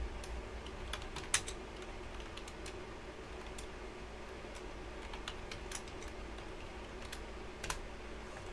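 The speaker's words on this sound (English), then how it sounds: "I gotta like get my keyboard back." Someone types on a computer keyboard, making a steady patter of soft, close clicks with a few slightly louder keystrokes against a quiet room, with no talking.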